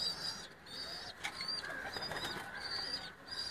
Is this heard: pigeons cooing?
yes